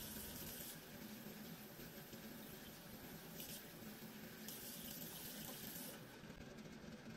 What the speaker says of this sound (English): Just one more full rinse to make sure we got all that soap out.